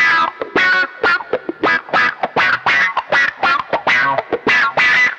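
A funky electric guitar plays through a Carl Martin filter pedal set to band-pass. Choppy, rhythmic cutting strums have a nasal, quacking wah-like tone. The playing is loud and close, with no talking.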